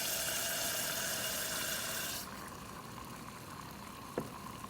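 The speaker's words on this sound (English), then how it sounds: "So all the thermal energy in the glass is going into boiling the nitrogen." Liquid nitrogen is poured into a glass beaker in a lab and boils with a strong broadband hiss that drops abruptly to a softer fizz, then a single small clink near the end.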